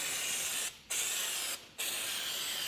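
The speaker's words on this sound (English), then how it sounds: "good clean with brake clean, and wipe it all down" Brake cleaner sprays onto a Toyota Hilux LN167 brake disc in three quiet, hissing aerosol bursts separated by short pauses.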